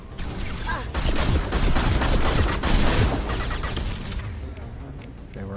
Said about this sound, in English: Why are you shooting at me? Quit shooting at me!